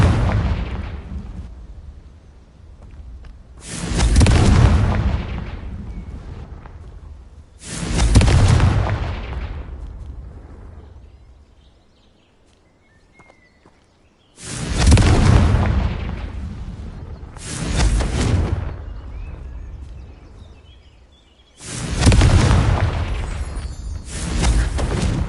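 Repeated Confringo fire spell blasts in Hogwarts Legacy, six loud booming explosions in uneven succession, each with a sharp onset and a long rumbling decay, mostly alone without talk.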